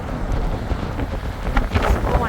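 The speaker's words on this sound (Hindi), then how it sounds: "ये देखो बहुत तेज़ हवा आ रही है और तूफ़ान चल रहा है।" Strong wind roars in a steady, loud gust during a snow storm at Niagara Falls in -24°C cold, buffeting the microphone with rumbling low noise and brief surges, with no talk.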